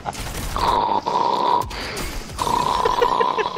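Heavy breathing over a headset microphone comes through as harsh, close, rasping breaths with a droning groan-like tone, several long wheezy pulls in a row.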